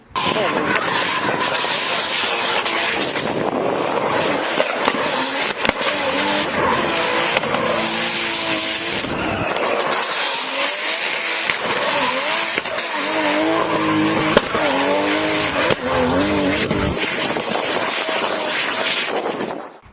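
A Volvo 940 Turbo engine revs hard and loud throughout, rising and falling in pitch, with tires squealing during sustained bursts of acceleration.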